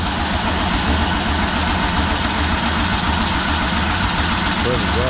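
A supercharged 5.3 V8 in a G-body car rumbles at a steady, loud idle throughout, with a dense low mechanical roar and voices talking under the engine.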